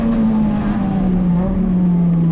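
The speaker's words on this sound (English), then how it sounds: "You can hear the car's a bit low in the RPMs" Race car engine held low in the revs through a corner at Laguna Seca during a USTCC touring car race, a loud steady drone with a slowly sagging pitch, continuous and close with no talk.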